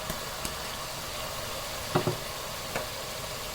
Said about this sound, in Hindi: अब इसमें हम दही और बेसन को जो मिक्स किया था वो छान के इसमें शामिल कर देंगे।